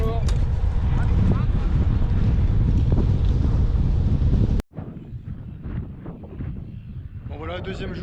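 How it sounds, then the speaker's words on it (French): Strong south wind buffets the microphone while gravel cycling near Gevrey-Chambertin, a loud continuous roar for over four seconds. It cuts out abruptly, then returns as lighter gusty rumble. "il y a un bon vent de sud là"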